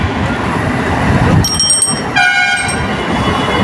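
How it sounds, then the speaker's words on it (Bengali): A train departs on the Amghata line, a steady loud rumble of rolling stock with two horn blasts, the first short and the second longer and tonal, both sounding over the running noise. "দেখতে পাচ্ছেন ছেড়ে দিল ট্রেনটি।"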